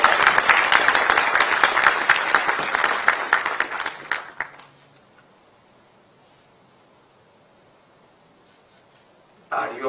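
Applause from the audience at a Gujarat Police appointment ceremony for newly recruited sub-inspectors, a dense burst of clapping that fades out after about four seconds, followed by near silence until a voice begins to speak.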